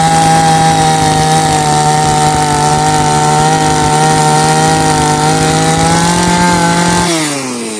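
A loud, steady motorized whine of a power drill boring into an oil palm trunk runs continuously close by, then winds down at the end.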